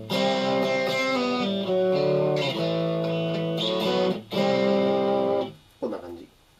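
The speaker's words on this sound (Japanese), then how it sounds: "ゲインをがっつり上げれば、こんな感じで、まあ、ボックスっぽい歪みの音がします。" Electric guitar played through a ZOOM G3 multi-effects pedal with the gain turned way up, giving a boxy high-gain distortion; sustained loud distorted chords ring continuously, with a brief break and a short final strum.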